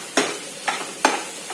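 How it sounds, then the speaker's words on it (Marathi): Thinly sliced onion frying in a wok, with a soft sizzle broken by three or four brisk stirring scrapes, close up and without any talk. "आपण कांदा भाजून घेऊयात आधी."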